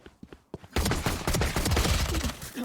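Rapid pistol fire from the Classic sidearm in Valorant, a few faint shots first, then a loud, dense burst of gunfire and impacts in a firefight.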